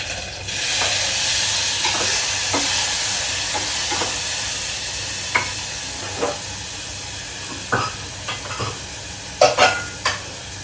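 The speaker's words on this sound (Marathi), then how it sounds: "सगळं फटाफट फोडणी देते आणि मग निघते." Tempering (phodni) for a brinjal-potato dal sizzles steadily in hot oil, a continuous loud hiss with several sharp pops and crackles scattered through, the spluttering growing busier toward the end.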